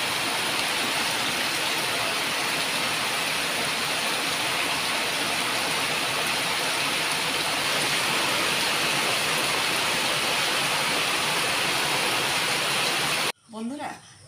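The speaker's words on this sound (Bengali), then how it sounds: "বাবা কি বৃষ্টি দেখো" Steady rain falls outside a home as a dense, constant hiss and patter, loud and unbroken for most of the stretch before cutting off abruptly, followed by a brief voice.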